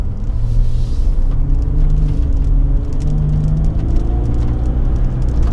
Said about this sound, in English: I'm gonna go ahead and give it a little bit of acceleration right here.